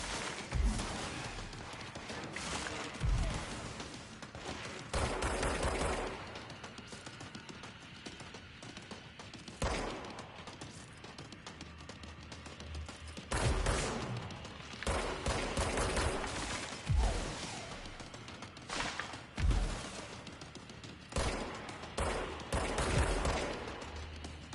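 Gunfire in the video game Control during a PS4 playthrough: repeated bursts of shots and thuds spread across the stretch over a dense game soundscape, no talk.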